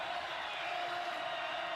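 Steady, dense roar of a loud crowd filling Bobcat Stadium during the Montana State vs Montana FCS championship football game, a continuous wash of noise with no distinct breaks.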